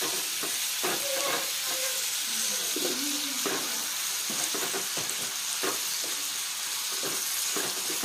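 Chopped onion and whole garlic cloves fry in rendered pork fat, crackling and sizzling steadily while a utensil scrapes and stirs the pan in repeated short strokes.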